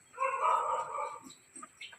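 A dog gives a single faint, drawn-out whine or yelp, followed by a couple of quieter short squeaks, heard on its own.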